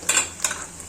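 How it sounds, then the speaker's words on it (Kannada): Onions with turmeric powder stirred in a pan, two brief scraping stirs with a light sizzle, close and alone. "ಉಳ್ಳಾಗಡ್ಡಿ ಫ್ರೈ ಮಾಡೋಣ. ಸೊ ಇದರಲ್ಲಿ ಸ್ವಲ್ಪ ಅರಿಶಿನ ಪುಡಿ ಹಾಕೋಣ."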